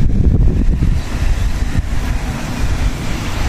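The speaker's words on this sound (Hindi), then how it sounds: "आज मौसम भी बहुत प्यारा है, हवा चल रही है तेज" Strong wind gusting across the open fields of a farm in a Pakistani village, buffeting the microphone with loud, continuous low roaring that eases slightly after the first second.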